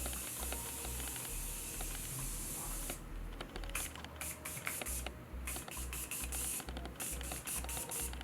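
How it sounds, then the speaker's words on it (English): Morphe Continuous Setting Spray misted onto a face, a run of short, close hissing spritzes in quick succession over a steady background hiss. "I'm just going to set my face with the Morphe Continuous Setting Spray."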